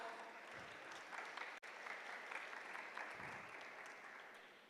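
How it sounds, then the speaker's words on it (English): Applause for the Côte d'Ivoire team at a Pan African Mathematics Olympiad ceremony: a steady crowd clapping in a hall, moderately distant and even, with no talking. "Applaudissez chaleureusement pour la Côte d'Ivoire."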